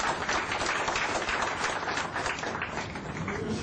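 Audience applause at a climate change panel discussion, a dense steady burst of many hands clapping that fills the room evenly throughout.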